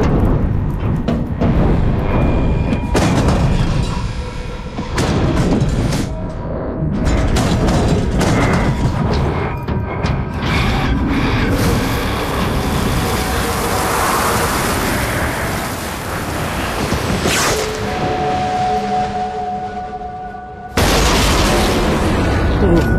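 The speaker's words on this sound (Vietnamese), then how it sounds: "Đại trường hình nổ súng đó" Booming gunshots ring out from an execution ground in a Hong Kong martial-arts vampire film, heavy distant blasts and rumbling bursts mixed with ambient noise over a long stretch, with a brief voice near the end.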